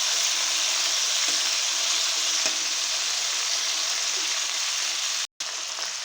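Small morola fish frying in oil in a pan, giving a steady, close, continuous sizzle with a fine crackle that holds evenly and then breaks off in a brief gap near the end.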